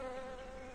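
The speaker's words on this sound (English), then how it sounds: "Get the bees." Bees buzz in the video game Whispered Secrets 13: Tying The Knot, a steady droning hum with layered wingbeat tones that runs unbroken and fairly loud through the short stretch.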